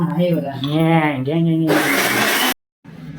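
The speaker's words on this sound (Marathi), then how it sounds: "दादा मिक्सरला लावलं जात आहे" A kitchen mixer grinder whirs loudly as it grinds coconut and kokum for sol kadhi, starting after some talk and then roaring steadily before cutting off abruptly.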